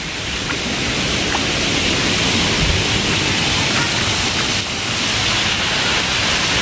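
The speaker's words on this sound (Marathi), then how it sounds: "हे डोंगरातनं येणारं पाणी आहे बरं का डोंगरातनं येणारं काय स्पीडनी येते पाणी" Water rushes down from the hills near Bhushi Dam in monsoon rain, a loud continuous roar of fast-flowing water, close and unbroken throughout.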